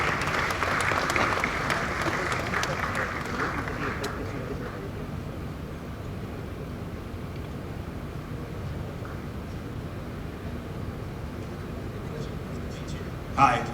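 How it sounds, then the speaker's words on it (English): Audience applause welcoming guests onto a stage at a launch event, strong clapping at first that thins into a steady crowd wash for several seconds, with voices mixed in. "Please welcome them on stage with a warm round of applause, everyone."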